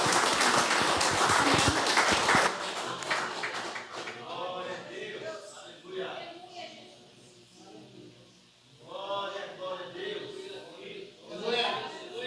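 Applause from a church congregation during a Portuguese-language service, a dense burst of clapping in the opening two seconds that stops abruptly, followed by a person speaking into a microphone over the room.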